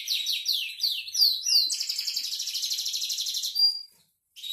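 Several caged canaries, including a yellow one, sing loud, close, continuous rapid trills and chirps with no pauses until a brief gap near the end, with no talking.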